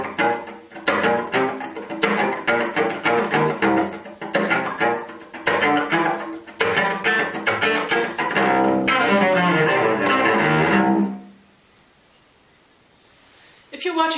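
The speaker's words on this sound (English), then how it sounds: "a combination of all 4 elements we've just had, the downbow chops, the upbow chops, ghost chops, and sounded upbow chops" Cello played with chop techniques that combine downbow, upbow, ghost and sounded upbow chops: a rapid percussive, rhythmic scratching mixed with pitched notes, ending on a sustained tone that fades into near silence.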